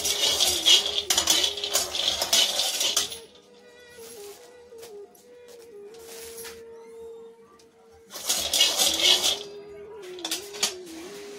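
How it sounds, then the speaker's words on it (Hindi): Peanuts dry-roasting in a pan, with two long bursts of rattling and scraping as they are stirred, separated by a quieter stretch over a steady low hum. "यहाँ मैं मूंगफली को भून लूंगी"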